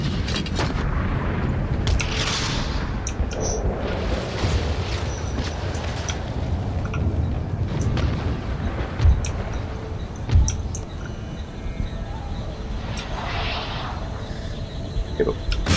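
Artillery fire in Empire: Total War: muffled booms and cannon thuds sound over a dense battlefield rumble, with a couple of sharper, louder blasts toward the middle and no talk.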